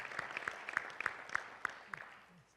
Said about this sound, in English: And Round of applause for that one.